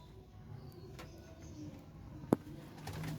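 Pigeons coo faintly in a quiet loft setting, low soft calls repeating under a steady background hum, with one short sharp knock partway through.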